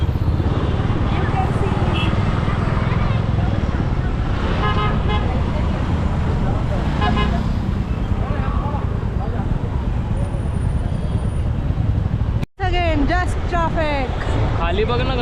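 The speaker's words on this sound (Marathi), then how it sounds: "इथनं खाली हायवे दिसतोय बघा हे ट्रॅफिक बघा" Continuous roar of highway traffic below, heard from a distance near the Warje bridge in Pune, with a car horn tooting and people talking over it throughout.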